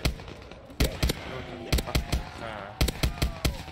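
Gunfire in Black Ops 3 Custom Zombies, sharp bursts of shots in quick rhythmic clusters separated by short pauses, loud and close, with faint game sounds between.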